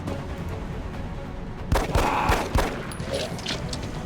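Gunfire in the turn-based strategy game XCOM: Enemy Within, with a few sharp, loud shots over a steady background hum and a short burst of crackling impacts.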